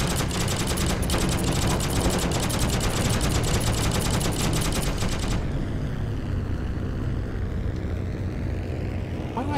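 Rapid automatic gunfire in a shooter video game empties a full magazine in a dense, unbroken burst for about five seconds, then cuts off, leaving quieter game ambience.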